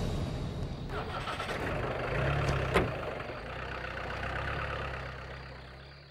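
A car engine turns over, catches and rises to a steady running drone that fades as the vehicle pulls away, with a brief sharp click midway and voices faintly beneath.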